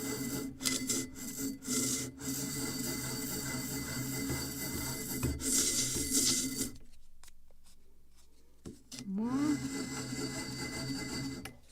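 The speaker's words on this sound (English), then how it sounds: "I just can sand it to be faster." A small wooden plank for a 1776 gunboat Philadelphia model ship is sanded by hand with quick, uneven scraping strokes close by. A brief pause follows, then more rubbing, and a voice says a single word.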